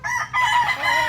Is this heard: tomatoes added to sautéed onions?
no